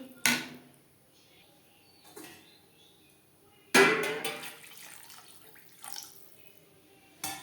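Water is poured into a pan of koi fish curry with bean seeds in several separate bursts: a short splash, a weaker one, then a longer pour with gurgling tails, close-up against a quiet kitchen background.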